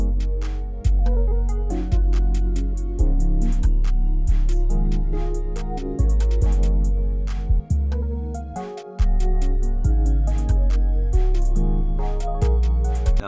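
A pluggnb beat plays alone, with booming 808 bass hits in a bouncy pattern, crisp ticking hi-hats and a bright plucked melody looping over them, steady and loud.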